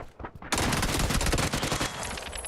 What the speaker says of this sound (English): I literally was shooting before he even made the turn.